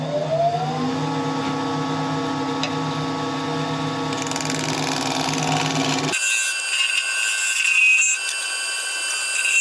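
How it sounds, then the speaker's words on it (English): A hand scraper works across the CA-glue-hardened wood surface of a piece spinning on a woodturning lathe, a steady close whirring hum with a scraping rasp, the tone shifting and thinning partway through. "we can now just go in with a scraper, clean up the surface and get ready for sanding"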